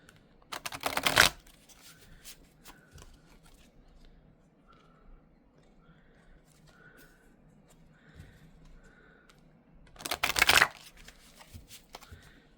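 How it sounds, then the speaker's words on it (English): Two quick bursts of riffling cards several seconds apart, with quiet rustling and faint handling noises in between. "So I will shuffle each deck this way 5 times."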